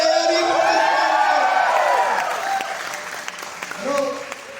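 A crowd at a business training event in a hall claps and whoops loudly, with shouts and cheers riding over the applause, which fades somewhat before a brief swell near the end.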